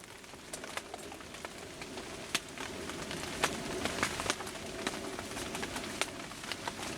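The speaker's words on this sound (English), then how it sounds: "it looks like it might be a continuous sort of rain" Steady rain patters on surfaces nearby, with scattered louder drips and faint bird calls in the background.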